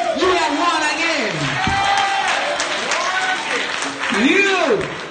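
Church congregation clapping hands in worship, a steady wash of applause under a preacher's strong sung and shouted voice with scattered whoops from the crowd.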